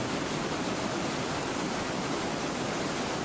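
A wide, low limestone rapids waterfall in Lahemaa, Estonia, about 20 metres across and 1.2 metres high, pours with a loud, steady, unbroken rushing roar heard close and alone.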